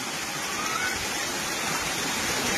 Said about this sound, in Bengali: এরকম স্রোত রাস্তার পর, এরকম স্রোত আমাদের এই রাস্তায় কোনোদিন এরকম হয়নি